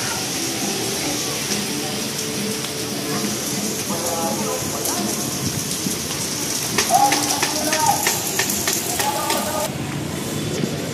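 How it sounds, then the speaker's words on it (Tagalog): Heavy rain pours down steadily in Divisoria, a dense close hiss with scattered louder drops, while a voice talks over it partway through. "So grabe, lakas talaga ng ulan."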